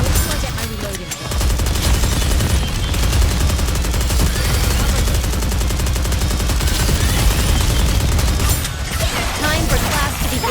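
Sustained automatic gunfire from the game Goddess of Victory: NIKKE, Campaign Chapter 19 (Eden), with rapid continuous bursts that fill the whole stretch, loud and close, pausing briefly near the start and end, with in-game voice lines mixed in.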